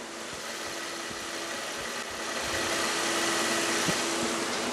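A SsangYong Chairman W CW600 luxury sedan idles with its engine bay open, a steady, quiet, smooth hum with a faint low tonal drone that swells slightly partway through, heard alone without voices.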